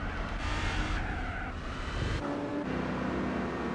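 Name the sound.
Aston Martin Vantage race car in Gran Turismo 4 video game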